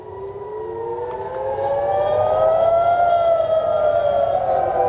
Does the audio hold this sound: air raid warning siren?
yes